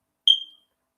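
A ceiling-mounted alarm device, probably a smoke detector, gives one short piercing chirp that fades in about a quarter second, alone in a silent room.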